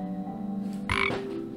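A toad croaks as a sound effect in a fairy-tale telling about a witch's spell: one short, loud raspy burst partway through, over a soft steady musical bed.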